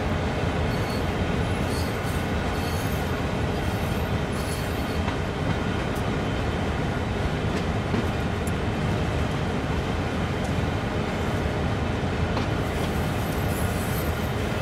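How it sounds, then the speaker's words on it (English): Trains rumbling along the rails in the Train Sim World 4 game: a steady, loud, continuous roll of wheels and track noise with faint clicks and squeals, heard alone without talk. "There's another train coming down the other rail."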